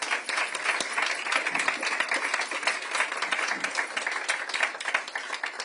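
An audience at the Nova music exhibition opening applauds returned hostages, a continuous close round of brisk clapping that stays steady from start to finish.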